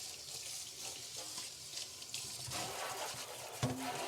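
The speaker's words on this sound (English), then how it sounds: "that's water hitting a big old oven pan" Tap water runs into a big metal oven pan in a kitchen sink, a steady splashing rush with a louder metallic clunk near the end.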